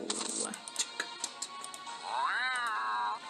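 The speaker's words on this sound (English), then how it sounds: "That was a cat." A cat lets out a drawn-out, grumpy meow of rising and falling pitch near the end, fairly close and clear, after a stretch of light tapping and faint background sounds.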